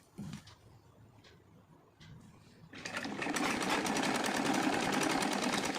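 Up close, a sewing machine starts after a few quiet seconds of faint handling and then runs steadily to the end, stitching a silk saree fabric laid over its lining for a kurti.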